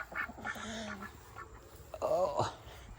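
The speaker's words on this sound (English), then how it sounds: "That duck is so pretty." A duck on a small farm with chickens and roosters gives a couple of short nasal quacks, fairly close and moderately loud, with a little background noise.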